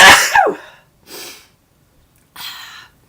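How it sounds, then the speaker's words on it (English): A single loud, close sneeze erupts sharply at the start, followed by two softer breathy exhales, during a live hand-knitting session. "I'm going to sneeze."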